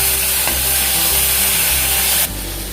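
Tomato ketchup fries in a pan for an egg curry with a loud, dense sizzle and faint stirring rubs. The hiss drops off sharply just before the end.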